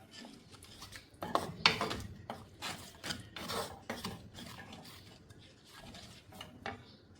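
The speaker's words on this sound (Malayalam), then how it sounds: "എന്നിട്ട് നല്ലോണം ഇളക്കി യോജിപ്പിക്കാം." A spoon scrapes and stirs okra curry around a pan in quick, uneven strokes, with soft clinks against the metal, close and fairly quiet.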